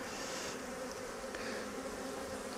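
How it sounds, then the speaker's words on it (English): Honey bees swarm around a Flow Hive during a hive split, producing a steady, dense buzzing hum that fills the whole stretch without pause and with no talk. "this will put a lot of bees in the air"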